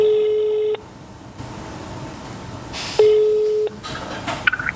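DTMF dialing tones ring out twice on a telephone calling the Fillea CGIL union SOS hotline in Catania, each a steady beeping tone lasting under a second, with clicks and soft background noise between.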